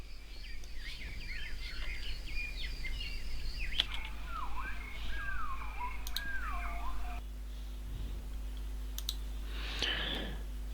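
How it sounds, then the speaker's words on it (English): Birdsong in the DCS Combined Arms combat game, playing while a tank drives with its engine sound missing: steady overlapping chirps and whistles throughout, with scattered clicks and a low constant hum underneath. "In fact, all we can hear is the birds singing."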